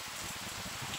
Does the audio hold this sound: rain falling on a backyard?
yes